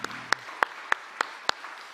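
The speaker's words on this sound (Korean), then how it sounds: "하나님께 영광의 박수 한번 드릴까요?" Congregation in a church at an early-morning Friday prayer service claps in a sparse, evenly spaced rhythm of about six sharp claps, fairly close, after a brief low voice at the start.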